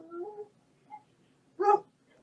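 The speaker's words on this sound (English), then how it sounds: "they're barking down the hallway now" A dog down a hallway gives a few short, distant whimpering yips and then one louder bark near the end, separated by quiet gaps, with no speech.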